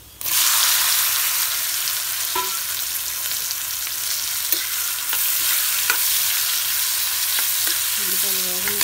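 Onions sizzle steadily in a hot pan with mustard seeds, cumin and turmeric, a dense, continuous frying hiss with occasional stirring scrapes near the end.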